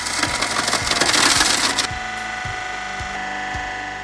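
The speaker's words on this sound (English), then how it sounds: "Observe the impressive power of this wood splitter." Hydraulic wood splitter working through firewood, with loud cracking and splintering wood against a steady machine drone, followed by rhythmic thumps under the continuing engine hum.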